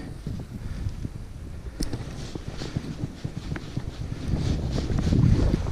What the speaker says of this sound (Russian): Здесь ветер сильно задувает.